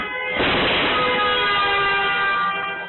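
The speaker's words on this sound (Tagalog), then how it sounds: "Biglang may malakas na kalabog at busina." A car horn blares in one long, loud, sustained honk on the Maharlika Highway in San Rafael, Bulacan, after a crash, with a harsh tonal drone.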